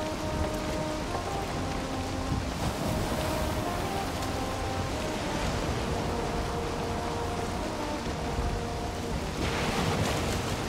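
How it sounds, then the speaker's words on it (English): Big ocean waves roll and wash continuously in the video game Valheim, a dense surf roar with surges of spray and a faint tonal hum beneath, and no voices. "Big waves."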